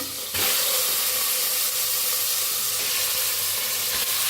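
Steady, loud sizzling and hissing of chicken frying in a hot pan with garlic and ginger, starting abruptly and continuing evenly without speech.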